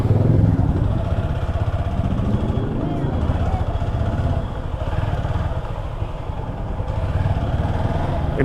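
Motorcycle being parked outside a mosque in Cumilla on Eid, its engine idling and rumbling close by with some clatter as it is maneuvered, a steady low drone throughout with talking mixed in.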